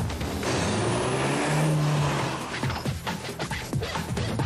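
A Renault Formula One car sweeps loudly through a corner on a track in France, its engine note rising and then falling as it passes, followed by sharp bursts of braking and downshifts.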